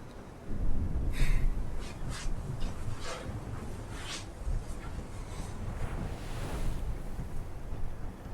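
A steady roar of stormy sea waves and wind fills the scene, rough and continuous, with surging crashes rising over the constant rumble.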